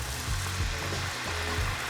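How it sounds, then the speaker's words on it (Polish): Wine poured into a hot frying pan holding onion and butter after frying Baltic sea trout, a steady loud hiss and sizzle filling the whole moment, close and continuous. "A na patelnię wlewam wino."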